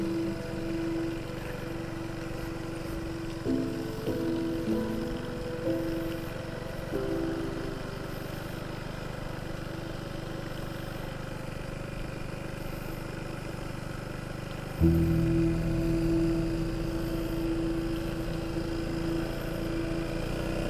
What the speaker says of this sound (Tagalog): Dito ay sinubukan namin hilahin ang aking motor gamit ang motor ni Kev.